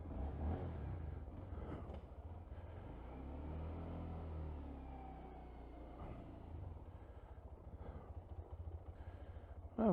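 A little red 2021 Honda MSX125 Grom motorcycle pulls away, its small engine droning steadily with rising and falling revs as it rides off, fairly close with a wind-buffeted mic and no talking.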